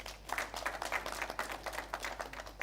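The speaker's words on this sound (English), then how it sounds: "Another resounding round of applause to the Book of African Records." Faint, thin clapping at a schools quiz final, a scattering of hands in uneven bursts heard from a distance over a low hum.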